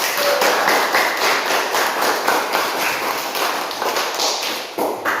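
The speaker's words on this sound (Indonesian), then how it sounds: "kita berikan tepuk tangan buat kelompok melakukan sesuatu." Applause from an audience for a group of children performing, steady dense clapping sustained throughout, fairly loud and close, with no talking over it.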